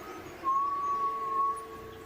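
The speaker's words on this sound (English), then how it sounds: "The only presence felt is a subtle whistle in the distance." A thin, steady whistle drifts from a distance in a horror video game, one sustained eerie tone lasting about a second over a dark, quiet ambience.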